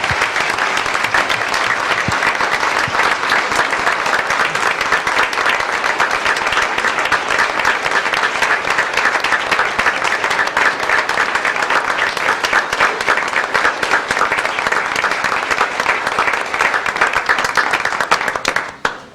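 Sustained applause from an audience at a Saline city council meeting, a dense, even wash of many hands clapping for nearly twenty seconds before trailing off at the end.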